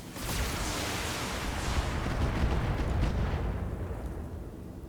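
A mech weapon shot slams into a turret in Battletech, a heavy, rumbling explosive blast that swells and rolls on for several seconds, loud and dense with low boom before slowly thinning out.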